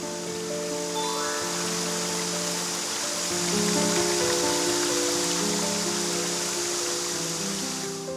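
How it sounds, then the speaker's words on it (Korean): Water flows steadily through a landscaped creek built to resemble a forest valley stream in a Gangnam apartment garden, a continuous soft rushing wash with faint tonal sounds layered over it. "이렇게 개울물 흐르는 소리를 들으니까요."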